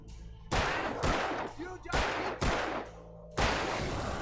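Five sharp, loud gunshots from the video game Alan Wake ring out at uneven intervals, each with a long decaying tail, ending in a sustained burst.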